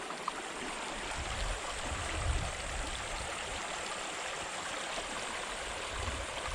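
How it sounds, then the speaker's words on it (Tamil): Fast-flowing spring water runs through a forest at night, a continuous rushing, gurgling hiss heard close by and alone, with no talking. "ரொம்ப ஃபாஸ்ட்டாகவே போயின்னு இருக்கு இங்கே தண்ணி எல்லாம்."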